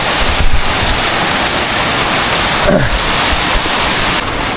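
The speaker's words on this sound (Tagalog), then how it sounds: "So bigla na naman bumuhos ang ulan." Steady, dense roar of heavy rain pouring down, broadband and continuous throughout, with a brief low rumble midway.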